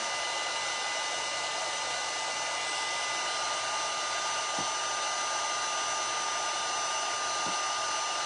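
A hair dryer drying paint blows as a steady, loud, continuous whir close by, with two faint knocks in the background.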